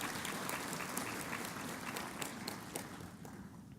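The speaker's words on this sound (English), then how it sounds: "So I would like to ask for a round of applause for their presence." An audience at an opening ceremony gives a continuous round of applause, many hands clapping in a steady, slightly distant wash with some sharper claps standing out.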